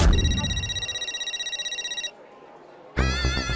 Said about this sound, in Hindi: अरे बाप रे, माधवी का फोन